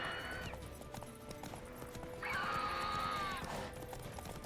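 Horses in the video game The Witcher 3: Wild Hunt neigh in two loud whinnies, the second long and shrill, over a constant dense background of hooves and game noise.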